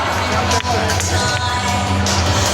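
An audience at a stock market conference applauds and cheers: a dense, steady wash of clapping and crowd noise that fills the whole moment at close range, with a faint low musical hum underneath.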